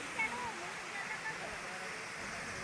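Steady rushing water from the waterfall and river at Kuntala in a forest setting, a continuous broadband roar filling the whole clip.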